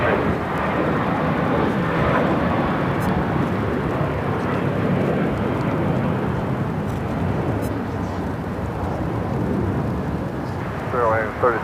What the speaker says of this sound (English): Next takeoff is Volaris, flight 7837. It's an A320.